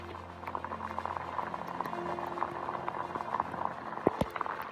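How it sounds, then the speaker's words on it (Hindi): Hail falling on a wet, rainy Himalayan mountain trek route toward Rudranath: a soft, dense, continuous patter of small ticks, with a faint steady hum underneath and one sharper knock near the end. "ओले गिरते हुए"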